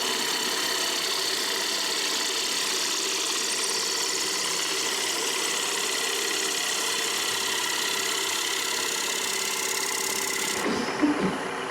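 A wood lathe roughs out a bowl, giving a steady droning motor hum with continuous scraping of the tool on spinning wood, close and unbroken until a brief knock near the end, with no talk.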